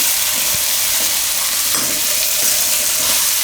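Papdi beans and muthiya dumplings fry in hot oil, giving a steady, close sizzle with a few soft stirring knocks and no voices.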